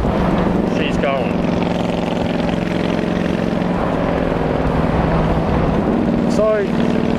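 A carburetted Kawasaki Vulcan VN800 motorcycle engine runs close by with a loud, steady droning rumble that holds an even pitch throughout.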